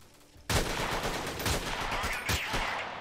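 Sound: gunshots in video game Freeman: Guerrilla Warfare

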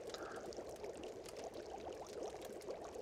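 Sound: water being poured out in the video game The Long Dark

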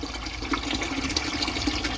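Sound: filtered water running into a bucket

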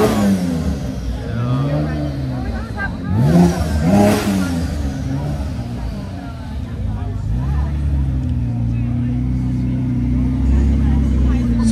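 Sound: Porsche Carrera engine revving

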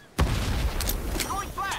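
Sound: frag grenade thrown and exploding in video game Ironsight

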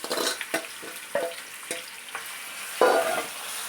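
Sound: mango chutney frying in oil with curry leaves

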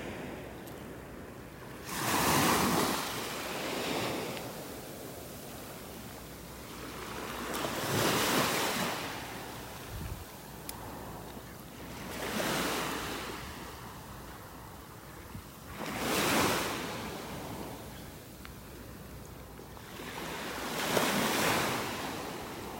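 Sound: ocean waves on a beach in North Naples, Florida

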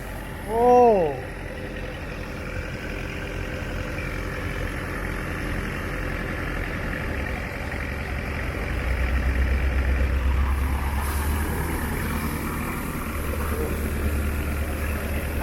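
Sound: water pump engine idling

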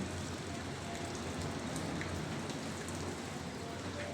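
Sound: rain falling outside at a resort

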